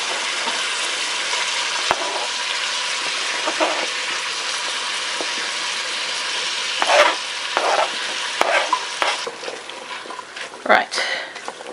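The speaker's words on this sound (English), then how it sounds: "at the same time, because it all then will saute off nicely in the bacony goodness" Bacon with onions and pumpkin sautés in a pan, giving a steady soft sizzle with occasional stirring scrapes and clatters toward the end, fairly quiet throughout.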